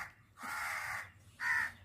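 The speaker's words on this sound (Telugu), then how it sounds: "అక్కడ కాకులు అరుస్తుంటే చూస్తుంది." Crows caw from nearby in two harsh, separate calls, a longer one followed by a short sharper one, with quiet between them.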